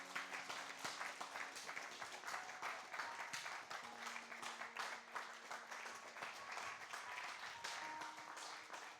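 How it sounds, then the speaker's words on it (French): Congregation applause at a bilingual French and English church service, a steady wash of many hands clapping throughout, with faint voices mixed in. "Let's clap for them."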